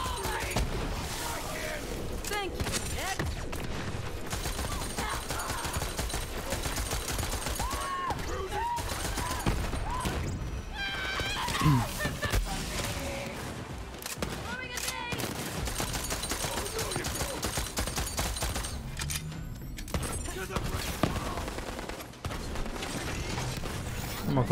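Gunfire in the video game Borderlands 3, with repeated bursts of rapid shots and mechanical clanks layered over game sounds and music across the whole stretch, and a person talking at times.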